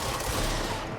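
Rapid gunfire from a new gun style in the video game Control, a dense continuous burst of shots that fills a short moment at steady loudness.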